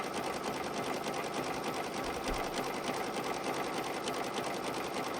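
An embroidery machine stitches a zipper bag held in the hoop, a steady, dense mechanical whir with a fast, even needle rhythm that runs unbroken and close throughout.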